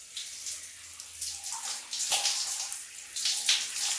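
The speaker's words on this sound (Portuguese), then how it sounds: "Então eu vou lá agora tomar banho, lavar meu cabelo e volto já aqui com vocês." Water runs in a home shower while hair is washed, a steady watery spray with shifting splashes and flow changes, moderately loud and continuous, with no talking.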